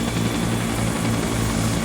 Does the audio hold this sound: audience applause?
no